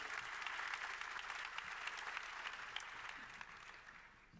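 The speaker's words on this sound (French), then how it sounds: "Vous pouvez les applaudir." Audience at a professional conference applauds two guests, a dense sustained clapping that stays fairly even and tapers slightly toward the end.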